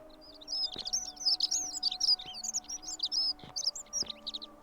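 Birds chirping in a tree in the video game The Forgotten City, quick high bursts of tweets in rapid clusters over a quiet background hum, close and clear with no talking.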